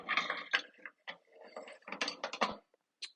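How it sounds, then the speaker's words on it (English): Metal washers and a sleeve being pulled from a Shopsmith woodworking machine, a string of short clicking and rattling metallic sounds in irregular bursts, close and fairly quiet with brief pauses between. "Let's remove that sleeve. And I'm going to catch"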